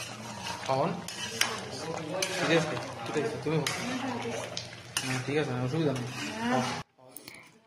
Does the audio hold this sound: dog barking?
no